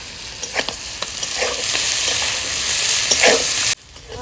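Spices fry in a pan with a steady broadband sizzle and occasional scraping stirs, ending abruptly as the heat or pan is taken away near the end.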